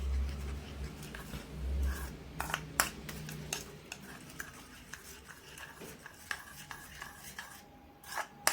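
Coffee powder paste for a homemade night cream is mixed in a small bowl, a spoon scraping and tapping against the sides in soft, irregular strokes, close but quiet, with no talk.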